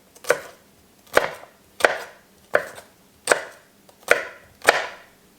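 A knife slicing through a strong onion on a cutting board, six crisp, evenly spaced chops with short decays, close and clear with no talking.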